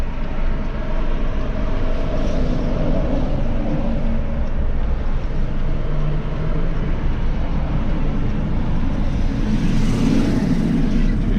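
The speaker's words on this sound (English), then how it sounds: "There's a lot of traffic here." Heavy road traffic roars steadily around a car during a driving lesson, a dense low rumble that swells slightly near the end.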